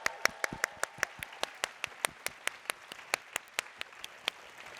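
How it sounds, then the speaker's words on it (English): A small audience at an awards update gives a round of applause. The clapping is sparse and distinct, with individual claps in a loose rhythm, heard from a slight distance and fairly faint. "can we give her a round of applause?"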